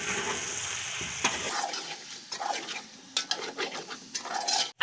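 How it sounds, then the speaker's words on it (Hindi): Chopped tomatoes and green chilies are stirred in a frying pan for chicken pulao, with a steady sizzle under repeated spoon scrapes and clinks against the metal pan. "इसे हम अच्छे से इस तरह से मिक्स कर देंगे।"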